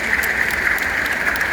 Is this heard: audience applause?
yes